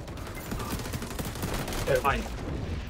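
Enemy gunfire in a Call of Duty game, a rapid, continuous rattle of shots at moderate volume, with a voice briefly audible partway through.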